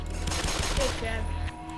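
Pistol gunfire in the shooter game Black Mesa: a quick run of sharp, close shots fired in rapid succession, then a brief lull with lingering echo, with some speech mixed in.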